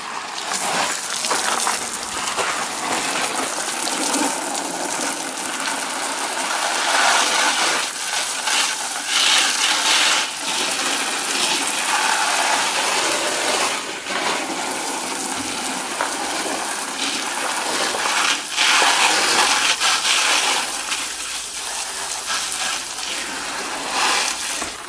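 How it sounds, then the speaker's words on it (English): Water from a regular garden hose rinses a car engine bay in a steady, loud gush that splashes and spatters over metal for the whole stretch, with brief surges and no talking. "so, and then you just rinse it off with a hose."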